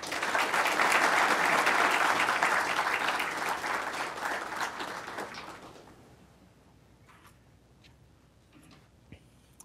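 Audience applause welcomes Governor Randal Quarles as keynote speaker at a conference in St. Louis, with steady loud clapping for about five seconds before it fades to a few scattered claps and room quiet.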